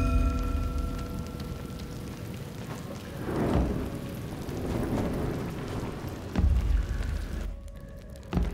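Steady heavy rain in the samurai action game Trek to Yomi, with low rolling thunder swelling in bursts midway and again near the end, and no voices.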